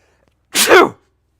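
A single sharp sneeze, close and loud, bursting out of near silence and ending quickly.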